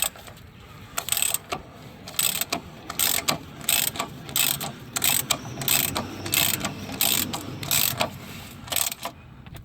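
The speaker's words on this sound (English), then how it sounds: "I just got my extended handle ratchet." An extended handle ratchet turns a bolt on a 2013-2016 Dodge Dart front control arm, producing loud, close bursts of rapid clicking in an uneven rhythm with no speech.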